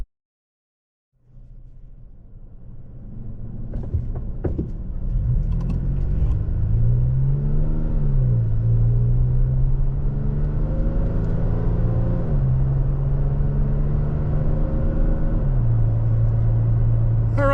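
A 2023 Toyota Tacoma TRD Off-Road pickup drives on a paved road after gravel, its engine a steady low rumble rising and falling through gear shifts, with continuous road and tire noise close inside the cab.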